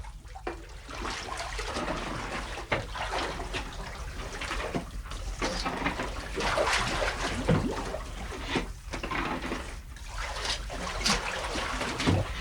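Water gushes and trickles steadily from an unplugged drain in a potter's clay mixing pit into a second settling tank, a continuous rushing flow with splashy surges.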